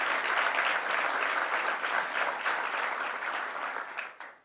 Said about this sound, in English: Let's give a round of applause to Hope Knight.